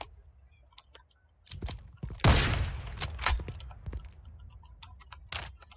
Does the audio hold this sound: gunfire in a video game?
yes